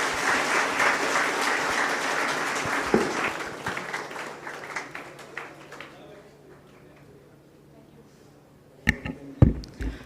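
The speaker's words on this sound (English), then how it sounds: "Can we please have a round of applause for both of our panelists?" A room of attendees at a National Youth Day panel discussion claps for the panelists, loud and dense at first, then thinning and dying away after about six seconds, followed by a few sharp knocks.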